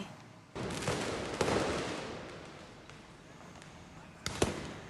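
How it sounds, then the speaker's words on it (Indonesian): Police firing tear gas at protesters outside the parliament building in Tbilisi, Georgia: several sharp bangs and pops at close to mid distance over a noisy crowd, with voices in the background. "Polisi terus menembakkan gas air mata serta mengerahkan unit meriam air untuk menghalau para demonstran dari gedung parlemen"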